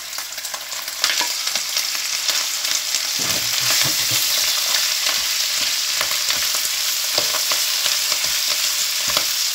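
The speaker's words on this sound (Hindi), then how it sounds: "उसके साथ ही मैं कीमा ऐड कर दूँ।" Minced meat (keema) frying in a pan with garlic for aloo keema, a steady close sizzle with occasional stirring scrapes, no talk.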